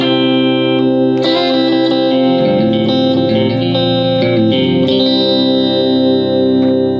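Electric guitar played through a relatively clean effects preset with chorus and reverb shimmer, loud and close, sustained chords and ringing notes with no talking.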